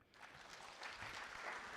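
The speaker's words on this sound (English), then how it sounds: "let's give them a bigger round of applause" An audience applauds at a ceremony during Uganda Water and Environment Week, a short dense burst of clapping that swells quickly and holds steady, heard from a distance at low volume.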